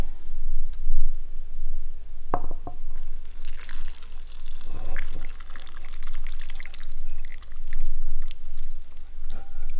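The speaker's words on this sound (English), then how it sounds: "warm up the broth to a near boil and pour it over everything" Hot broth, warmed to near boiling, is poured over a ramen bowl of noodles, meat and egg. The liquid streams steadily for several seconds with a brief clink, and no one speaks.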